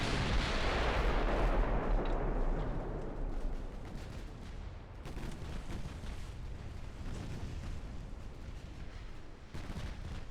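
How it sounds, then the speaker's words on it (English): Warship secondary guns fire in the naval warfare game Ultimate Admiral Dreadnoughts, a loud booming salvo at the start rolling off into a sustained rumble, with further scattered gunshots and a fresh blast near the end. "Gives our secondary guns something to do."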